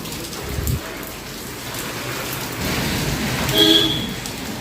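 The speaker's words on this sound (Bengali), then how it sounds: "তো বৃষ্টি অনবরত পড়েই চলেছে," Steady light drizzle patters outside a balcony, a soft, continuous wash of rain with a faint thump early on and a distant horn-like tone near the end.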